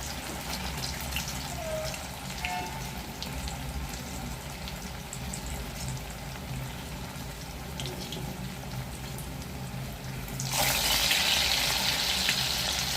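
A fresh batch of crispy potato snacks deep frying in hot oil, a steady dense bubbling hiss close by that swells louder and brighter toward the end, with no one speaking.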